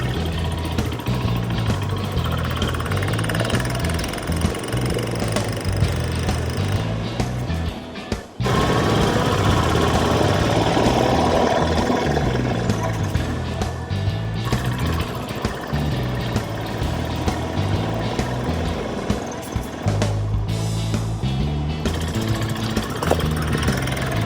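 A vehicle engine running steadily during a ride, a loud, close, continuous droning rumble with rhythmic pulsing and one brief dip where the revs drop off before it resumes.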